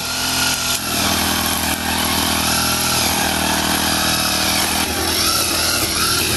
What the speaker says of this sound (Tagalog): si Bossing ay nag-grass cutter na rin po dito sa daan